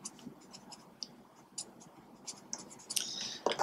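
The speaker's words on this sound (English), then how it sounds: "I will write over here." Faint scratchy strokes of writing on a board during a chemistry lesson come in brief, irregular bursts, with a slightly louder scrape near the end.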